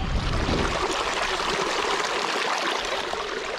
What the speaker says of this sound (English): Gotta take advantage of this high altitude snow melt water.